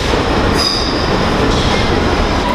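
A London DLR train runs with a loud, steady roar of wheels on rails and a faint high squeal, heard from inside the carriage with no break and no talking.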